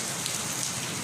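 Dense, steady rainfall hisses close by, an even wash of drops with no pauses and no voices.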